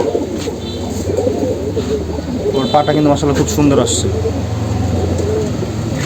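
Army breed pigeons, kept penned in a loft, coo in a low, steady, overlapping murmur throughout, close by and running beneath someone talking nearby.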